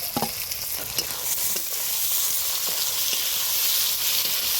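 Chopped tomatoes go into onion and garlic frying for a cock chicken curry, giving a dense, even sizzle with a few utensil scrapes and taps early on; no voices.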